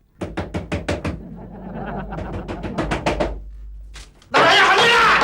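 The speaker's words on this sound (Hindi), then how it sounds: "हाँ, पीटते रहिएगा दरवाजा" Someone bangs repeatedly on a door, a fast run of loud knocks followed by steadier pounding, ending in a sudden burst of harsh noise.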